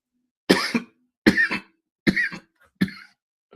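Four separate coughs spaced about a second apart, close and fairly loud, from a person with a cold, with brief silences between them and no talk.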